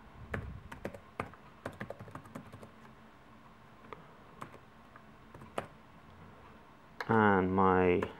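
Keys tapped on a computer keyboard, a quiet irregular run of clicks entering a network password, then a voice speaking near the end.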